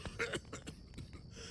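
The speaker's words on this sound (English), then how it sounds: "before this man stops coughing" A man coughing in Dead Synchronicity, a short burst of several rough, hacking coughs close to the mic, then fainter throat-clearing sputters trailing off, at a low level.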